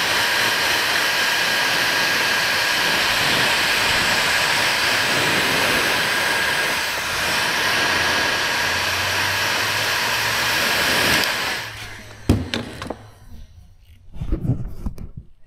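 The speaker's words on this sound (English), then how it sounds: "Slide my heat shrink back up there. Take my heat gun." A heat gun blows a steady, loud broadband rush while shrinking heat shrink tubing over a cable lug on a ground cable for a horse trailer, then cuts off near the end, leaving a few handling knocks.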